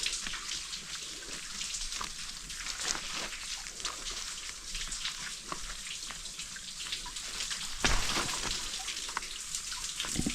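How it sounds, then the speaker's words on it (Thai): Water flows and trickles down cracked rock beside a deep cave in a rainy-season valley, a steady close hiss of running water with scattered splashes and drips, and no talking. "มีน้ำไหลลงมานะเพื่อนนะ"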